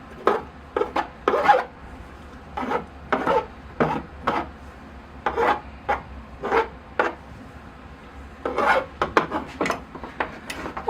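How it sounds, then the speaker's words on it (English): A root rake combs through the soil and roots of a mulberry bonsai during repotting, giving a string of short, close scratchy rasping strokes in irregular bursts, fairly quiet, with no talking. "I will comb out the roots once again with my root rake."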